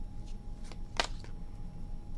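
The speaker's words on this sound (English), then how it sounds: "Last shuffle." Tarot cards are riffled and shuffled by hand in a quiet room, a soft papery rustle with a brief crisp snap in the middle.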